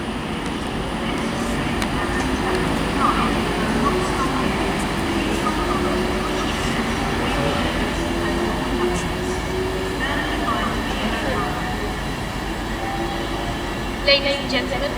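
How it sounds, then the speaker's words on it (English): An electric passenger train on the West Coast Main Line passing through Watford Junction station, a sustained rumbling and rolling wheel noise with a faint whine, steady and fairly close, with voices talking over it. "And there goes the 1140 service to London Euston only."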